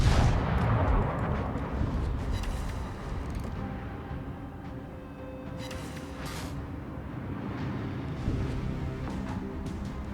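Naval artillery in the World of Warships video game fires repeatedly as heavy booming blasts that roll into a dense, rumbling wash of gunfire and explosions, loud and continuous throughout with no speech.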